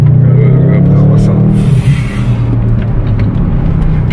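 Audi RS6 engine running loud from inside the car, a deep steady low rumble with a brief dip and rise in pitch midway, under cabin sound.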